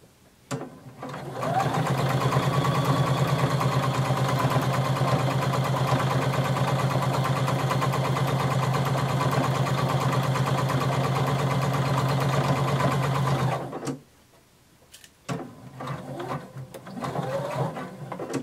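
Sewing machine stitching a seam at normal stitch length, a close, steady rapid mechanical whirr running for about twelve seconds, then stopping, followed by a few short bursts of stitching and handling noises.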